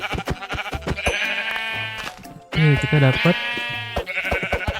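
Sheep in the Minecraft video game bleat repeatedly, loud nearby calls in quick succession, with a person talking over them.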